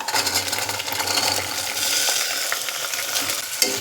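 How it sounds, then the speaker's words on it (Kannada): Washed peas and potatoes go into a pan of frying onions, bringing a loud, steady sizzle of hot oil close by, with light stirring scrapes and clinks on top. "ಬಟಾಣಿ ಮತ್ತು ಆಲೂಗೆಡ್ಡೆನ ತೊಳೆದು ಇಟ್ಕೊಂಡಿದೆ ಇದನ್ನು ಇಲ್ಲಿಗೆ ಹಾಕ್ಕೊಳ್ತಾ ಇದ್ದೀನಿ"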